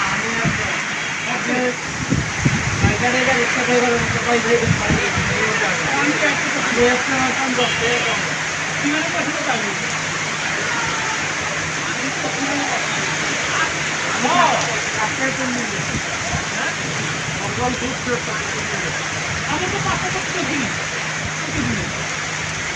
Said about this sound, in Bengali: এই পরিমাণ বৃষ্টি হচ্ছে।